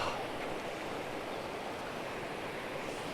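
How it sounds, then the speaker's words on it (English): A bigger creek on a Mogollon Rim hiking trail in Arizona flows in a steady, soft rushing wash, constant and fairly quiet with no voices over it. "This is actually a bigger creek."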